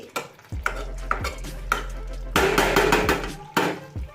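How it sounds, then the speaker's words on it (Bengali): A spoon stirs chicken kosha in a pan, giving a few loud scraping, clattering strokes with short pauses between bursts, close and without talk. "দেখো আমি আবারও একটু নাড়াচাড়া করে"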